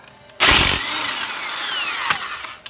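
A power impact tool spins lug nuts off the front wheel of a Dodge Journey fitted with a winter tire, using a 19 mm socket: a loud sharp burst, then a sustained whirring run with a brief knock near the end.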